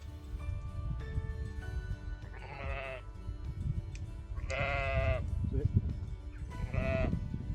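Lambs bleat in a field by a lane in Coombs Wood, Armathwaite, Cumbria, three clear calls spaced a few seconds apart, fairly close, over steady outdoor rumble and wind.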